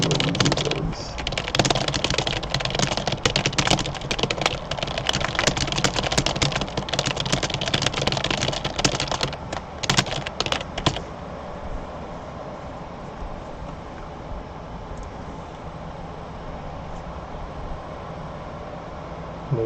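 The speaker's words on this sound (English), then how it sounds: "Maybe I am typing easy words too fast." Fast typing on a computer keyboard during typing-speed practice, dense rapid clatter of key presses close up for about eleven seconds, then stopping and leaving only a quiet hiss of room noise.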